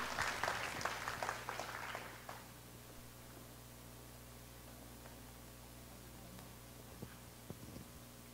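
An audience at a working holiday information session in Taipei claps to welcome a speaker: a burst of applause for about two seconds, then fading into a quiet room hum with occasional faint noises.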